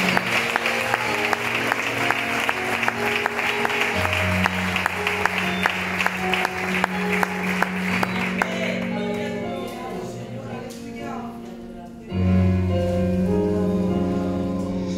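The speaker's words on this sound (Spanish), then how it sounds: "Un fuerte aplauso y el Señor su bendiga." Applause rises from a church congregation, a sustained patter of many hands heard over a steady organ or keyboard chord, with the music continuing alone after the clapping fades.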